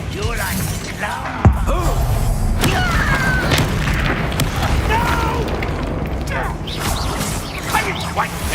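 A Confringo explosion spell cast in the video game Hogwarts Legacy: a booming blast and crashing impacts over dense combat noise, with a sharp hit early on and continuous rumbling and magical whooshes after.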